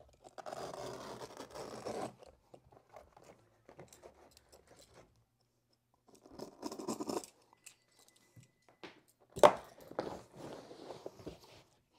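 Excess stair carpet is cut down in short, close scraping and rasping strokes, spaced with pauses, ending with a sharp snap and some rustling.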